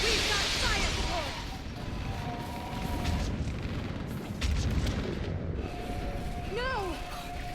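Heavy artillery fire support booms and rumbles across a Mass Effect battlefield on Therum, with muffled blasts under a constant roar and occasional warbling electronic chirps.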